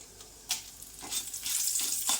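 Urad dal and dried red chillies frying in oil, a close, bright crackling sizzle with stirring scrapes and a few sharp spits, building slightly louder over a couple of seconds.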